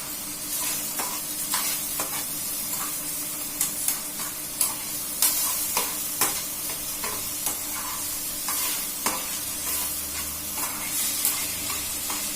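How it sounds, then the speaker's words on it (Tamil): Spicy pasta ingredients sautéing in a hot pan, a continuous bright sizzle broken by repeated scraping stirs and spatula knocks, close and steady with no speech. "இப்போ நம்ம இதை நல்லா வதக்கிக்கலாம்."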